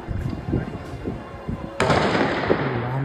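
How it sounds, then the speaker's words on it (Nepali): A police officer fires a gun toward Phulbari road, captured from a rooftop: one sharp, loud report cracks out partway through, over rumbling background noise and a faint voice. "फुलबारी मार्गतिर ताकेर यसरी गोली चलाउँछन्"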